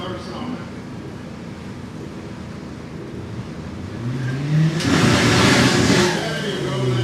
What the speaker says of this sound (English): Little Nissan hard body coming up with the power sound.